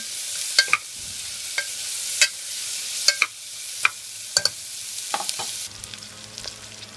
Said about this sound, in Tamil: வெங்காயம் வணங்கிருச்சுங்க